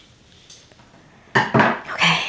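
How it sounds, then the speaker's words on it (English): Scissors snip the corners off sewn fabric in a few quick, close cuts, with faint handling noise in between. "let's snip the corners off a little bit"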